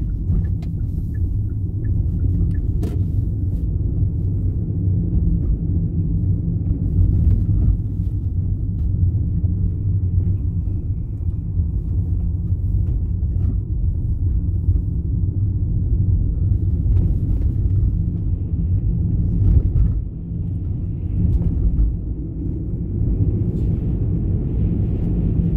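Steady low engine and road rumble from inside a car driving along Sherbrooke Street toward Magog town centre, continuous and even throughout with no talk.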